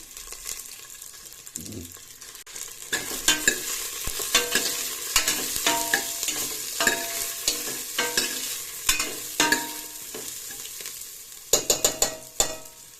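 Five or six dry red chillies fry in a pan with a soft, steady sizzle while a spatula stirs and scrapes in repeated clattering strokes, growing busier toward the end. Close, and no one speaks.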